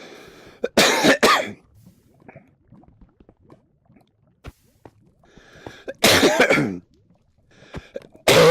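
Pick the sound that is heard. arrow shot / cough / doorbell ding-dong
cough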